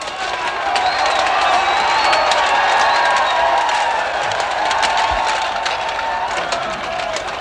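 Large crowd of rioters roaring and shouting continuously at a steady, loud level, a dense mass of voices close by with no pauses.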